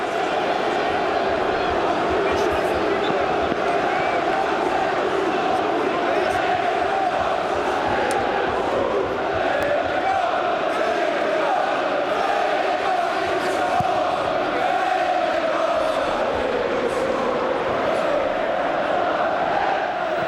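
A large Manchester City football crowd roars continuously after a goal, a dense and steady wall of cheering and chanting that carries at an even level throughout.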